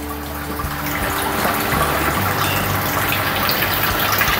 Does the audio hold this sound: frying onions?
no